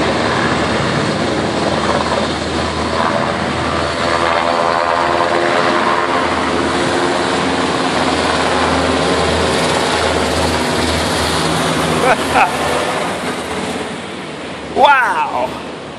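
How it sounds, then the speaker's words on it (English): Blackhawk helicopter hovering overhead in St. Paul, a steady loud rotor and engine drone filling the whole clip with wind-like rumble, brief bumps of handling noise toward the end. "Blackhawk helicopters. He's just hovering here now."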